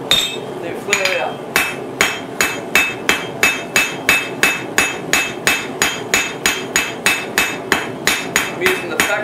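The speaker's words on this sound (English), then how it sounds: "I'm using the back side of the hammer" A blacksmith strikes hot metal with the back side of the hammer while forging a spoon, giving loud, close, evenly spaced ringing blows, about two per second, with no talking.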